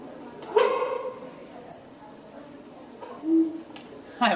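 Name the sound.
barking dog chemical reaction with white phosphorus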